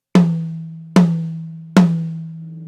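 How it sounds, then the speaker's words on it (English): Three evenly spaced drum hits, each a resonant tom strike ringing out with a mid-pitched sustained tone, played alone and close. "So the rack tom will sound like this"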